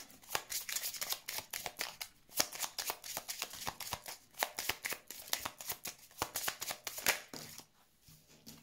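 Tarot cards are shuffled and drawn in rapid, crisp riffles and slaps, close and fairly loud, in uneven bursts with no talking over them.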